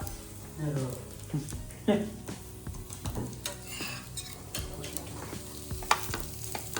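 Batter sizzles and crackles on a hot griddle, with occasional scraping and clinking of a spatula and faint talk in the background.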